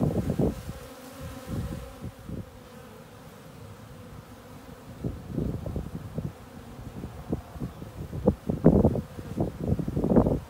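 Bees buzz around a beehive in early spring, the hum coming in irregular close swells that rise and fade, louder toward the end, with light wind and rustling behind.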